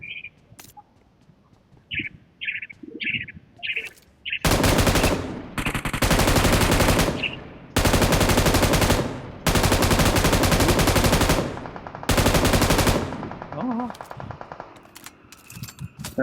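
Machine gun fire in a video game comes in several long, loud sustained bursts separated by short gaps, preceded by quieter chirping sounds and brief low activity.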